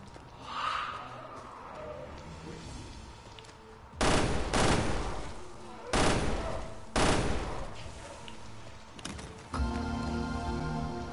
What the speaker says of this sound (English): Recoil of this fucking gun